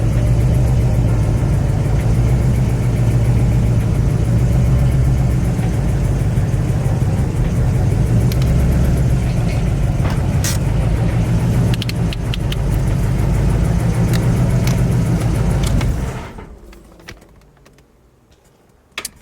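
A Nissan 350Z running again after repairs, its engine heard up close with a steady low throbbing drone and occasional clicks for about sixteen seconds before it cuts off to near silence.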